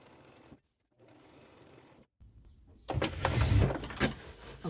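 A sewing machine stitches fabric for a gathered skirt, running in short whirring bursts broken by brief pauses, then a louder, busier stretch of stitching at the end.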